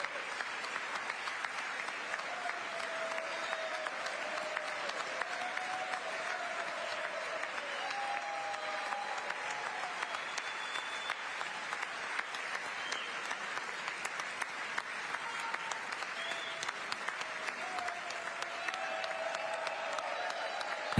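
A large audience in the chamber applauding the President's address to Congress, steady sustained clapping with scattered cheers and whoops, heard at a moderate distance and continuing for the whole stretch.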